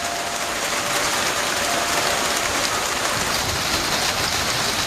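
Steady rain falls at night, a dense, even hiss of drops on surfaces that continues without break, loud and close.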